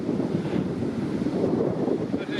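Waves break gently along a sandy beach in a calm bay, a steady low wash of surf mixed with wind rumble on the microphone, continuous and fairly close, with no talking.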